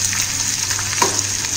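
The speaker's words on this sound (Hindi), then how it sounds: "अब ये घी गर्म हो गया है, अब इसमें मैं गोंद डाल के तल लेती हूँ" Edible gond pieces frying in hot ghee over high heat, giving a steady close crackling sizzle with a faint clink of a utensil near the middle, with no one speaking.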